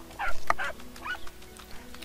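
A dog in the video game Adventure Craft gives a few short, close barks and yelps in quick succession over a low steady game hum.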